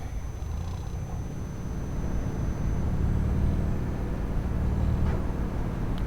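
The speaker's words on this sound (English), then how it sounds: "the truck engine sound is totally different too" A Scania truck engine in Euro Truck Simulator 2 drones in a steady low rumble throughout, with a thin high whine running faintly above it and no voices.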